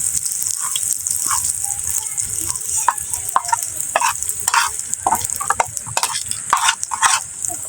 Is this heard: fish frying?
yes